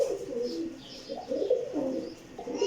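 Pure Royal Teddy pigeons coo in soft, repeated throaty calls, close and continuous over a faint background.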